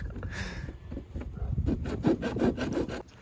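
Rough, rhythmic rasping strokes of a hand saw cutting through a Subaru BRZ's plastic bumper, repeating in quick back-and-forth bursts, close up and without speech.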